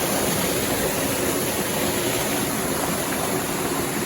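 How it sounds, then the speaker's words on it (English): Water pours over a small dam where Loamhole Brook and Coalbrook meet, a steady, loud, broadband rushing roar that continues unbroken throughout. "where the water drops down"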